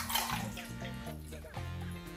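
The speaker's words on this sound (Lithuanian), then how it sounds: "pilam vandenį" Water poured into a small container for raising Aquadragons, a soft, low-level trickling splash that runs steadily for about two seconds, with faint tonal hum underneath.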